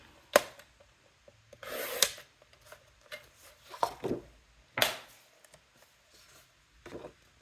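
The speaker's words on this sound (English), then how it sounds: "So just cut a strip at 3/4 of an inch." Paper or cardstock being cut into a 3/4-inch strip for an altered composition book cover, heard as a series of short, sharp snips and crunches spaced irregularly, fairly close and alone with no talking.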